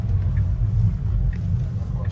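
Tesla Model 3 electric car accelerating, heard from inside the cabin as a steady low road rumble and hum with no engine note, fairly loud and continuous.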